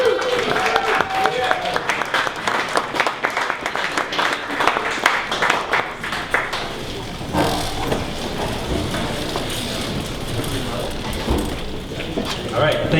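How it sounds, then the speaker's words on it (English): Audience applause for startup presenters at a pitch event, a room of people clapping steadily for several seconds and then thinning into murmuring and shuffling. "Give a round of applause."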